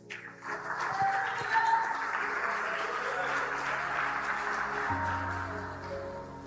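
Church congregation applauding during a sermon, a broad, steady wash of many hands clapping that holds for several seconds at moderate loudness, with faint tones and a low hum underneath.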